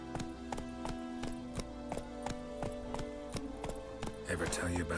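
Horse hooves clop in a steady rhythm as Roach the horse steps backwards in the video game The Witcher 3 on PS5, close and clear, with game music underneath and a louder burst of sound near the end.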